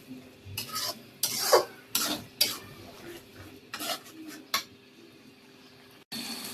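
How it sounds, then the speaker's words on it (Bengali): Masala spices of turmeric, chili and salt being stirred in a pan, with repeated scraping and clinking strokes of a utensil against the metal over a soft background sizzle, close and fairly quiet. "এখন মশলাটাকে ভালো করে কষিয়ে নিব।"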